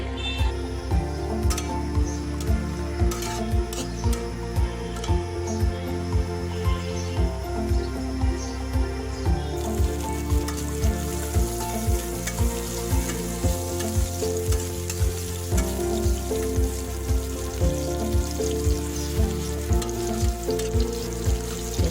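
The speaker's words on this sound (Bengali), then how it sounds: "কাঁচামরিচ কুচি দিয়ে এখন পেঁয়াজটাকে ভালো করে ভাজতে হবে" Sliced onions with half a cup of chopped green chilli fry in a pan for a magur fish curry, giving a loud, steady sizzle with regular stirring throughout.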